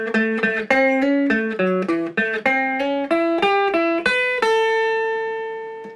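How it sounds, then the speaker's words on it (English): Rockabilly electric guitar plays the closing lick of a song's refrain: a quick run of clean, bright picked notes climbing step by step, ending on a long ringing note that fades out, alone and up close. "And the final lick of the refrain sounds like this."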